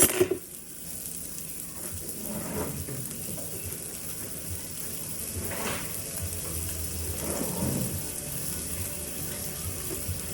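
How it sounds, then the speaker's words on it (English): Butter sizzling in a hot skillet for basting salmon, a steady hiss and bubbling in the foreground with a few swelling surges as it is spooned, close and moderately loud, no one speaking. "I'm going to add some butter in there."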